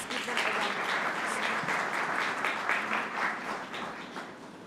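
Audience applause at a conference session, sustained dense clapping from a seated crowd thanking two presenters, steady and fairly loud throughout before tapering slightly at the end.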